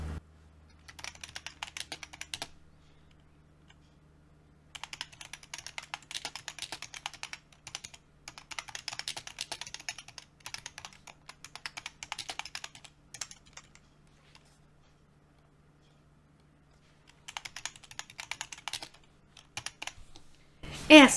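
Typing on a computer keyboard in bursts of rapid, close key clicks separated by pauses, with a long quiet gap near the middle and a faint low hum underneath.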